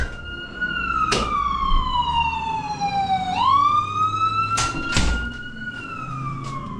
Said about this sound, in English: a lot of sirens these days